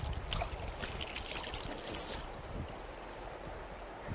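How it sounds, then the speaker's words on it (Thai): Spring water flows out at Caesarea Philippi, one of the sources of the Jordan River, a soft, continuous outdoor rush and trickle heard faintly at a distance, without voices. "บ่อน้ำที่นี่มีน้ำไหลออกมา20ลูกบาศก์เมตรต่อวินาที"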